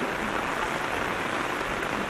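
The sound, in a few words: heavy rain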